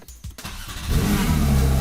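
A Porsche 911 S/T engine with a light flywheel blips briefly, then revs up hard into a loud, sustained roar close by.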